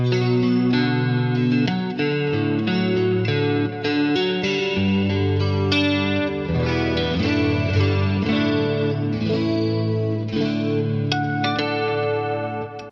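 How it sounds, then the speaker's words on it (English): Electric guitar, a Gibson Custom Jimmy Page #2 Les Paul, plays a continuous riff with a shimmering, warbling chorus effect, full and sustained throughout, with no talking. "I've got to add a chorus out."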